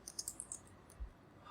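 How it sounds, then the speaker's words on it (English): Soft, quick keystrokes on a computer keyboard tap out an irregular rhythm of light clicks, close and faint, with no talking. "I'm just simply typing"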